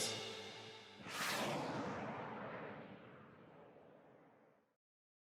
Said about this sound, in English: Ready for liftoff, super Daniel rocket.